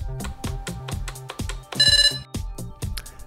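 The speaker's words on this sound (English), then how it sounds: "You will hear a tone emitted from the Chroma" Calibration tone from a Chroma drone: short, bright electronic beeps repeat in a quick rhythm, with one longer sustained high tone midway, heard close and fairly clear.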